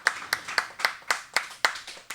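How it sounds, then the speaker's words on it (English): Comedy show audience clapping for an arriving guest, a fairly quiet, sparse run of distinct hand claps in an even rhythm, about four per second. "Rebekah Vandenburg is here. Give her a nice round of applause."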